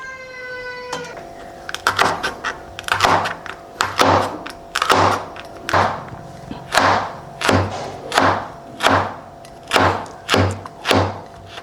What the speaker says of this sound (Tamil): அடுத்து குடமிளகாவை எடுத்து கட் பண்ணி இந்த விதையும் காமையும் நீக்கிட்டு